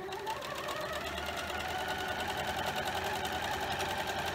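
A sewing machine runs steadily, edge stitching close along the edge of an appliqué stem on a scrappy quilt block, a continuous close whir with no pauses.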